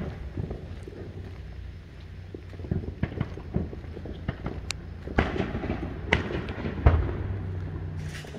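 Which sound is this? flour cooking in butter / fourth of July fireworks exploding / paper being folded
fourth of July fireworks exploding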